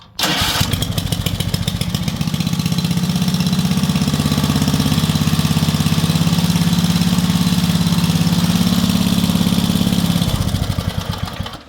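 Small vertical-shaft engine with a horizontal piston is pulled to start, catches right away and settles into a loud, steady, close idle that runs for about ten seconds before cutting off abruptly.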